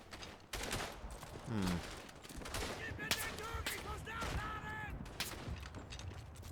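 Gunfire in the Verdun World War I shooter rattles through the clip as dense, overlapping shots and bursts at mid distance, with a few sharper reports standing out.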